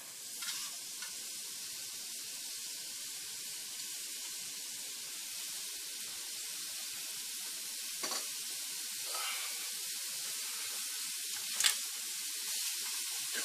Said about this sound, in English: So let's go ahead and saute these onions